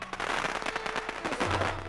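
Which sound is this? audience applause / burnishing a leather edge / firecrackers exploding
firecrackers exploding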